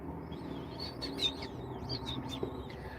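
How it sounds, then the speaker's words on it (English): Baby birds chirp and cheep for food, a cluster of thin, high calls coming close together and repeated over a low background hum. "Can you hear them chirping and cheeping and asking for food?"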